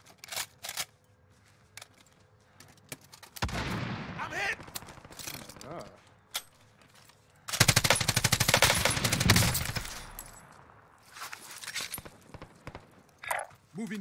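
Gunfire in the Modern Warfare Warzone video game comes in several bursts: sharp single shots and rapid automatic volleys, some loud and near, others more distant, separated by quieter stretches.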